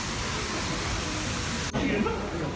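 A steady, loud rush of falling water from a waterfall at Samwon Garden, a wedding venue in Apgujeong, Seoul, fills the whole clip, broad and hissing, with a faint voice briefly surfacing near the end.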